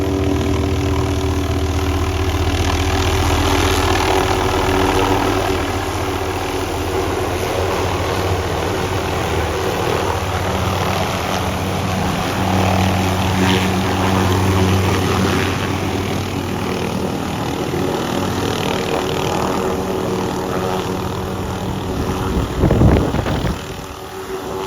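An abandoned helicopter bought from South America, its engine running and idling outdoors with a loud, steady droning whine and rotor hum, continuous for the whole stretch, swelling briefly near the end.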